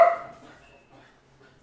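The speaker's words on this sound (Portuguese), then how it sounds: "Eu apresento a vocês meus cachorros, Kiara e Mia." Pet dogs, Kiara and Mia, who are squabbling: one sharp, close bark opens the moment, then fades into faint, scattered whimpers and quiet yips.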